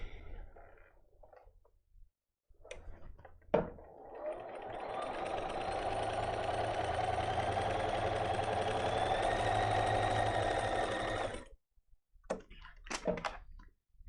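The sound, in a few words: sewing machine stitching a quilted placemat seam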